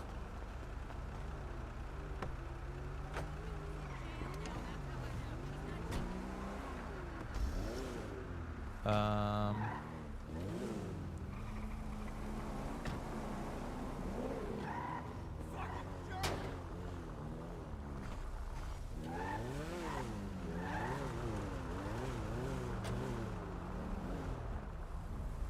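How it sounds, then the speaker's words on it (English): A video game car drives and pulls into a garage to park, its engine droning steadily with shifting revs and a brief mechanical clatter partway through, and voices talk at times over it. "can you go and put your car in the garage for me?"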